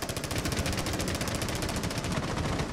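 A full magazine of automatic gunfire in Rainbow Six Siege rattles off as one loud, continuous burst of rapid shots that never lets up.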